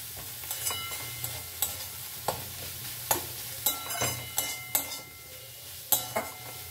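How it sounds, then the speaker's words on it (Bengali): Cumin, ginger and chilli paste being stirred into a pan of frying ingredients, a spoon clinking and scraping against the pan in regular strokes about every half second over a quiet sizzle, close and fairly soft, no talking. "আর দেব জিরে আদা লঙ্কা পেস্ট দিয়ে ভালো করে মিশিয়ে নেব।"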